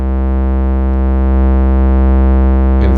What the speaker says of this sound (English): we can listen to oscillator 1 be modulated by it